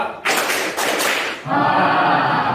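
An audience doing a group clapping exercise at a morning session claps in a couple of loud, close bursts, then voices and chatter take over.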